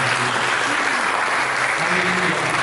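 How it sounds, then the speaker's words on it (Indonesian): A church congregation bursts into dense, steady applause, loud and continuous with a faint voice beneath. "Mari kita berikan tepuk tangan."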